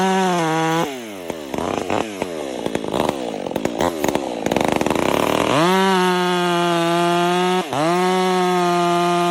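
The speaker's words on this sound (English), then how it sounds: "The sharp blade roars, slicing the thick log into evenly sized sections, each cut clean and precise" A chainsaw bites into a thick log with its cover off, its engine droning loud and near. The pitch sags and rises as the chain cuts through the wood, then it revs freely between cuts.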